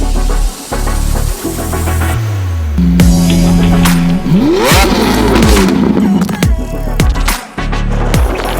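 A Lamborghini V12 engine revs hard and nearby, surging and dropping in pitch with sharp exhaust cracks and pops through a loud, busy mix.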